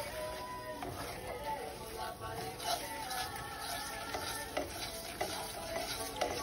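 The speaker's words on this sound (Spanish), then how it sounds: "le vamos a agregar una media crema y a moverle rápido" A spoon stirs cream quickly into a meatball gravy in a pan, scraping and clinking softly over a low, steady sizzle, with a voice talking throughout.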